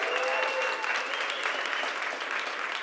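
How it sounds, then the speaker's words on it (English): A live audience gives a round of applause for a cleaning-industry expert panel of CEOs, steady clapping from many hands at moderate volume, lasting a few seconds with faint voices under it. "can we just hear a round of applause for all of our expert panel"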